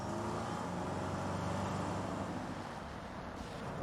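A car rolling up a residential driveway in a TV drama, a steady low engine and tire rumble, close and continuous, with no speech over it.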